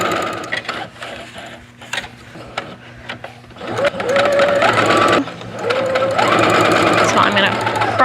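A sewing machine stitches across fabric pieces for half square triangle quilt blocks, its fast mechanical whirring and clatter running in loud close bursts after a quieter stretch, with a person talking at the start.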